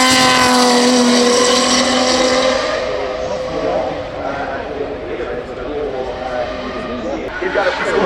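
A reimagined Rolls-Royce by Lunaz rolls past at the Goodwood Festival of Speed, its engine note loud at first and then fading into crowd noise while a commentator talks over it throughout.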